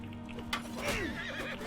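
A horse neighs and whinnies in the medieval battle game Bannerlord, a clear, moderately loud whinny rising and falling over the din of fighting, with no talk over it.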